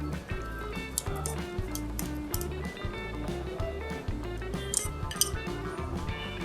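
A spoon clinks and scrapes against a bowl while fried shallots and spring onion are stirred into coto Makassar, a steady run of light metallic taps over a busy background.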